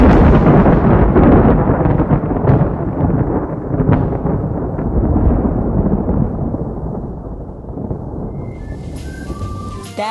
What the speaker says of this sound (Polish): Tak, to grzmot.